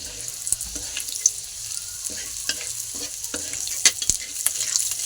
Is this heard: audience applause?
no